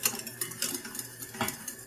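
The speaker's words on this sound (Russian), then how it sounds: "При постоянном помешивании" Custard cream of milk being stirred in a pot on the stove, a spoon scraping and clinking steadily against the pot in a quiet, repetitive rhythm with no talk.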